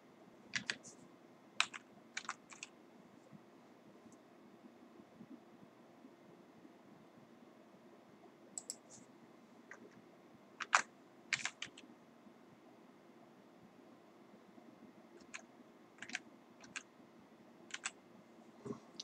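Computer keyboard keys being typed in short scattered bursts while entering a name during app registration, crisp close clicks over a quiet background with no talking.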